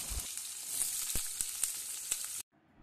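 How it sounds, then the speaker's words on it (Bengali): Potatoes frying in a pan with dried red chillies, cumin and bay leaves, a steady close sizzle broken by a few soft clicks and stirring knocks before it cuts off abruptly. "আলুগুলো ভেজে নিচ্ছি।"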